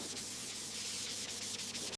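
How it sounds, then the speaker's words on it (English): A dual action sander with 320 grit paper works over a Ferrari F40 body panel, a steady close whirring scrub with faint rhythmic pulses, continuous and alone. "The dual action sander makes all the difference."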